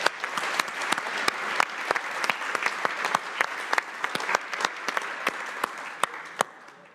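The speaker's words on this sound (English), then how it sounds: "so let's just give them all a clap" Audience applause at a wind power safety and training awards ceremony, honouring the finalists: a dense wash of clapping with sharp individual claps standing out, steady for several seconds before thinning and fading at the end.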